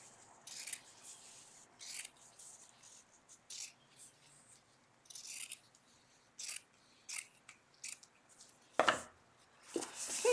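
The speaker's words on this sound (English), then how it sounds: "I'm just cutting off that 9-inch strip for the band." Scissors snip through a fabric strip for a no-sew chef hat band, with a series of short, crisp, irregular cuts close by and quiet pauses between them, plus a few handling rustles near the end.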